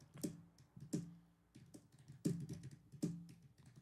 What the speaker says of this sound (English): Sounded like me with the keyboard.